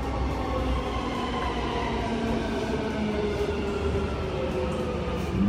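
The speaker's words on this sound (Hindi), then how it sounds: "देख सकते हैं मेट्रो आ रही है" A metro train rumbles steadily as it arrives at a station in the UAE, its low hum and rolling noise continuous, with no voices heard.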